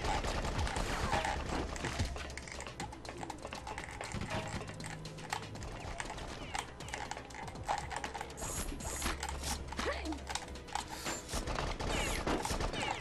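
Gunfire rattles in the action game BloodRayne, rapid clicky bursts of shots over game noise and clanking mechanisms, dense and continuous across the whole stretch.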